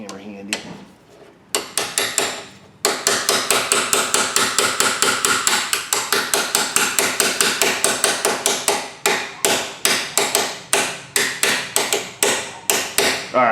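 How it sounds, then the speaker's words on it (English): Repeated sharp metal hammer blows on a socket set against a Subaru Crosstrek ball joint, a steady rapid series of loud, close strikes over about ten seconds with brief pauses, following a short pause and a few scattered knocks at the start. "Find a hammer. Always have a hammer handy."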